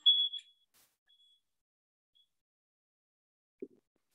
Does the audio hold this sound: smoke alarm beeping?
yes